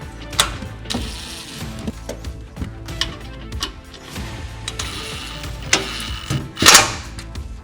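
Bolts being driven through a partition's side supports into mounting points in a RAM ProMaster van, heard as a close mechanical ratcheting and whirring with clicks and a louder burst near the end.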